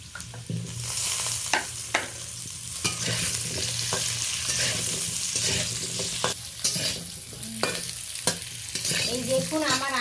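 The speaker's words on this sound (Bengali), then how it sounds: "মিষ্টি আলুটাও আমি হালকা ব্রাউন কালার করে ভেজে নিলাম" Sweet potato pieces fry in a pan of oil, crackling and sizzling steadily, with frequent sharp pops and scraping stirs breaking through the constant hiss.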